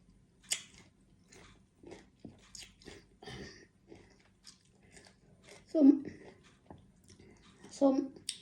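Crunchy sour green mango is chewed close up in several crisp, moist bursts, with quiet pauses between bites and a person talking now and then.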